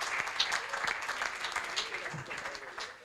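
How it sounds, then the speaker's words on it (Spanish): Audience applause at a Mar del Plata community event, a steady wash of many hands clapping at moderate level through the whole stretch, with some voices mixed in underneath. "Un aplauso para Diego."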